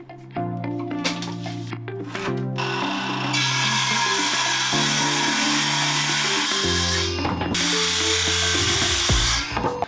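A Milwaukee handheld circular saw cuts pressure-treated 2x lumber. The motor whines loudly throughout, and two long bursts of harsh, broadband cutting noise stand out, with a short dip in the middle.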